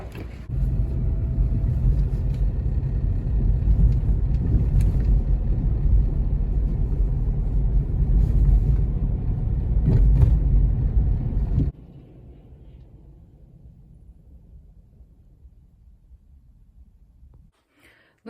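A car drives off with a loud, steady low engine rumble and road noise that drops abruptly to a quieter hum partway through, then fades out; no talking.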